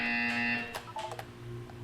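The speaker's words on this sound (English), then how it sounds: "You will hear a buzzer." A loud electronic buzzer sounds in the video game Portal 2, a harsh sustained tone lasting about half a second before cutting off into softer clicks and mechanical noises.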